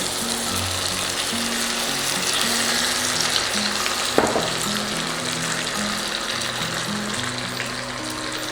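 Tomatoes sizzle and fry in a pan with cashew nuts, a steady crackling hiss running throughout alongside a faint repeating mechanical hum, with a brief sharp clink of utensil against pan near the middle.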